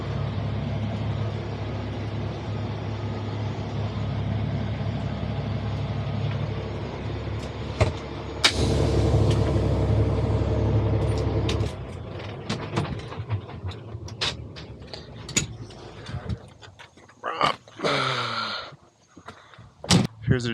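A low-mileage 45-ton picker truck rumbles steadily at close range, then the drone cuts off and is followed by scattered clunks, knocks and a door-like slam.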